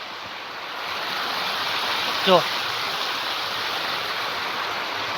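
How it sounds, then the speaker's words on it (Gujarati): Heavy rain pouring, with water rushing into a village pond, making a steady loud broadband roar throughout. A person speaks a single brief word partway through. "આજ પાછો જોરદાર વરસાદ આવ્યો"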